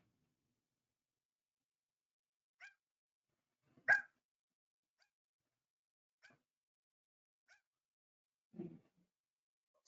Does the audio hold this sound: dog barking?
yes